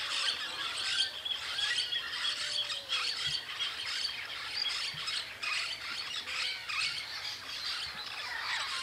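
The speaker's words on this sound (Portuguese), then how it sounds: "Já passaram dois papagaios." Loud, dense squawking and chirping of parrots flying over a rural farm in Brazil, continuous harsh calls filling the whole stretch with faint background ambience.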